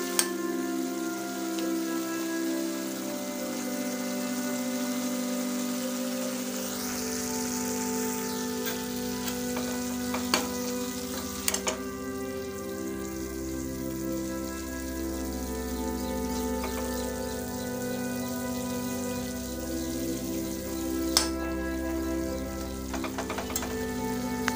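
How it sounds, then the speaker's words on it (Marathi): Peanut powder stirred into dill leaf vegetable in a hot pan, a steady close sizzle and frying hiss running throughout with occasional soft scrapes of the stirring spoon, no voices. "हे कूट या भाजीमध्ये मिक्स करून घ्यायचे आहे"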